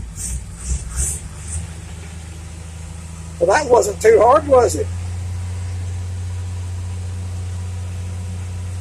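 An old Chevrolet pickup truck engine idles with a steady, low, even rumble, and someone speaks briefly over it.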